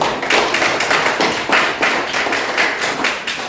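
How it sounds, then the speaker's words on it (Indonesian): Students in a classroom clap for a group's work, a steady stream of close, dense handclaps with slight rhythmic pulsing and no talk over it. "baru tepuk tangan untuk kelompok 1"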